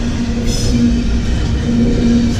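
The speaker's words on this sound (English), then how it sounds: "There's a train going over me right now." A train rumbles loudly across the bridge directly overhead, a heavy continuous roar with a sustained metallic tone and a brief squeal of wheels, heard from underneath.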